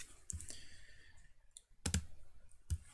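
A computer mouse clicks while faces are selected in FreeCAD, a handful of sharp, close, quiet clicks spaced irregularly against a near-silent background.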